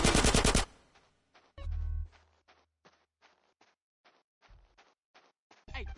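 Bursts of automatic gunfire in GTA San Andreas, a loud rattling volley at the start followed by scattered single shots and short bursts, some heavy and close, others fainter, spread through the scene.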